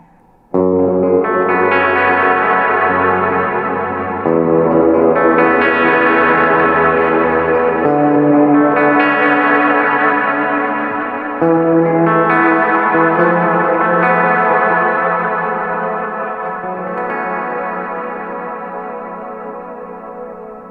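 An electric guitar through a Walrus Audio Black Edition Lore reverse delay and reverb pedal plays slow, sustained chords drenched in swelling reverse delay and lush reverb, each note blooming and washing into the next.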